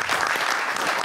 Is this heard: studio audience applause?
yes